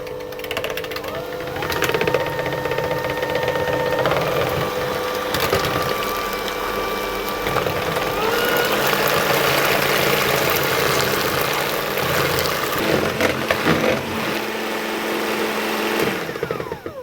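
Eggs whisked until pale and thick for a date and fig loaf cake give a continuous whirring, whining drone broken by rattling and clattering bursts, close and fairly loud.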